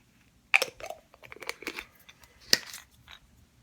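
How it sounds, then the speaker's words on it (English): High John the Conqueror root being crunched up by hand, a few sharp crackling snaps followed by softer crinkling and crushing bursts, close and isolated in a quiet room. "And then I crunch it up."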